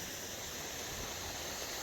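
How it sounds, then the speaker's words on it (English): A steady, faint broadband rush of a waterfall and small meandering brooks in the Desolation Wilderness flows continuously and evenly, with no voices. "Waterfalls. Little meandering brooks."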